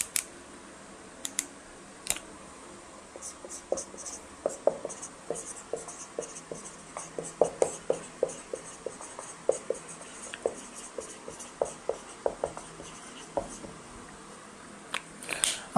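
Pen writing a sentence on paper, a close series of soft scratchy strokes and taps in irregular rhythm against quiet room noise.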